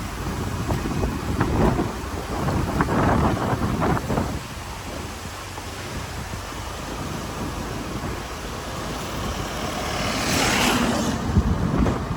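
Cyclone winds buffet a road in Chennai, a constant roaring rush of gusts and storm noise with surges that rise and fall, loud and broad with no clear talking.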